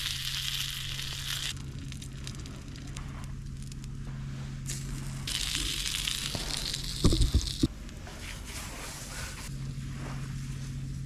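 Pork jowl bacon sizzles steadily in a pan over a campfire outdoors, a continuous crackling hiss with a low background hum and a brief burst of clattering handling noise partway through.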